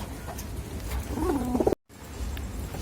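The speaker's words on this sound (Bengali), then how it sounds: "এটা হলো হোয়াইট গোল্ডেন কবুতর।" A White Golden pigeon gives a soft, low, rolling coo up close, one brief warbling call rising and falling over faint room noise, followed by a short silent break.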